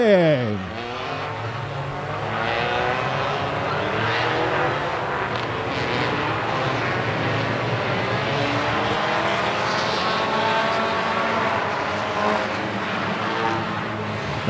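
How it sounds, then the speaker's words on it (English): Race cars at the Daytomah 200 short-track event pull away at the start, a quick descending pass-by sweep opening into a steady, sustained engine roar from the field circulating the track at moderate distance. "This race is starting in 5, 4, 3, 2, 1. Let's go racing!"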